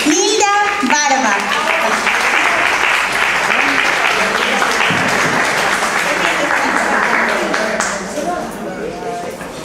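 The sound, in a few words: audience applause for Nilda Barba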